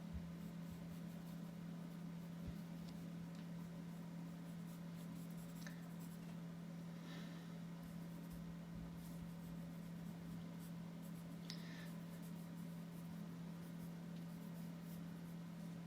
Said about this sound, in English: And this is a 2H graphite pencil